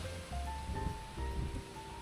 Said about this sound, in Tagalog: Buugong na yung hangin.